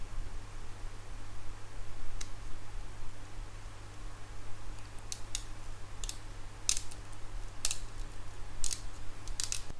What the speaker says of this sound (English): it's time to cut the mesh.